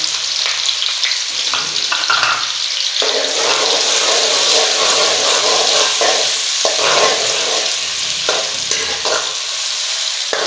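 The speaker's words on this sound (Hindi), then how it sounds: "1 कप हमने ऑयल लिया है, इसको अच्छी तरह से गर्म कर लेते हैं। अब हम इसमें प्याज ऐड कर लेते हैं।" Chopped onions go into a cup of hot oil for a Lahori chana curry, sizzling and crackling loudly and steadily for the whole stretch, with occasional stirring scrapes and no talk.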